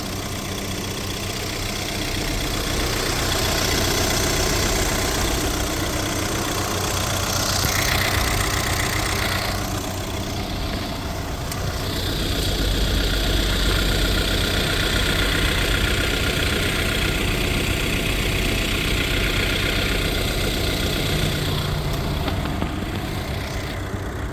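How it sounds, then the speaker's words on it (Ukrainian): A 2017 Volkswagen Crafter refrigerator van engine idles steadily and loudly for the whole stretch, a rough, even low rumble with a slight knocking texture and no voices. "Дуже гарна машина, двигун працює ідеально."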